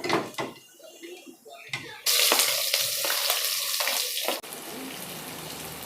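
Onions and whole spices (cinnamon, half a nutmeg shell, mace) fry for biryani in a village kitchen. A quieter hiss jumps to a loud, steady sizzle for a few seconds, then drops back to a softer crackle.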